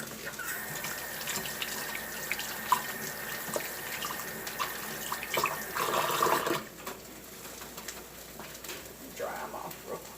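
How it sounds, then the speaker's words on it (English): Tap water runs steadily into a kitchen sink while hands are washed, a continuous rushing splash that swells briefly and then cuts off, leaving quieter room tone with faint background sounds. "let me wash my hands."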